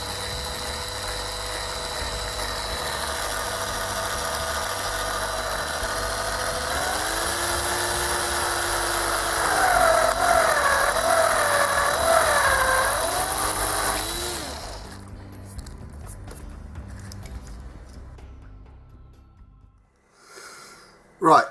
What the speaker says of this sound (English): letting the drill do all the work, just gently drill through.